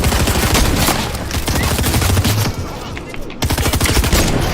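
Fortnite firefight with sniper shots, a dense, loud wash of gunfire and battle noise with sharp cracks scattered throughout and a brief dropout near the middle, constant and close.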